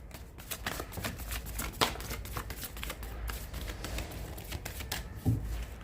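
Tarot cards are shuffled by hand in a steady run of quick, crisp riffling flutters and soft slaps, close up and fairly quiet, with no talking.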